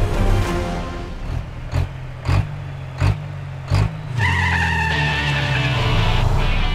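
Volvo Iron Knight racing truck pulling hard, a loud roaring engine broken by several rhythmic gear-shift bursts, then climbing into a higher, sustained whine as it accelerates.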